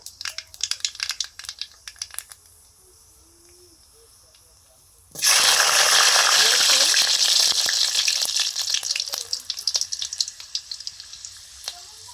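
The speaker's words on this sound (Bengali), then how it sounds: "সিম বাটার জন্য সিমটা ভেজে নিচ্ছি" Broad beans (sim) drop into hot oil with black cumin in a pan and burst into a loud, steady sizzle that keeps going close by, after a few seconds of quieter clicks and faint kitchen noise.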